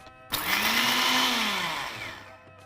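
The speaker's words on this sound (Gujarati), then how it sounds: "હવે આને ક્રશ કરી લઈએ" A kitchen blender crushes a sesame and peanut masala, starting abruptly with a loud, close whirring grind that holds steady for about two seconds before winding down and stopping.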